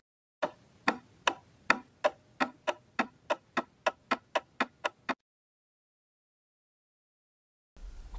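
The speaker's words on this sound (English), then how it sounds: "we are adding a clock sound which ticks faster with" A clock ticking sound effect: about fifteen sharp, crisp ticks that gradually speed up, then stop, followed by a few seconds of silence before a low sound enters at the end.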